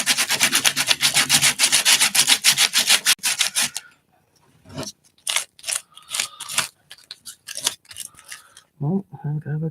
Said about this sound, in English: I'm just going to take a light sanding over that real quick.